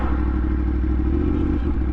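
Yamaha MT-10 motorcycle fitted with an Austin Racing exhaust, a loud close deep idling rumble with a brief blip near the end, no voices.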